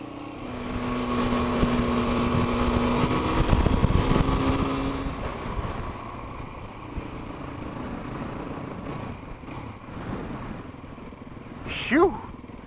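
A Yamaha WR450 motorcycle drones steadily for the first few seconds, then gives way to rough wind buffeting, with a brief sharp sweep near the end.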